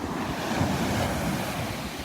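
Ocean waves break and wash onto the beach at Naples, Florida, forming a steady, full surf roar mixed with wind buffeting the microphone, with no voices.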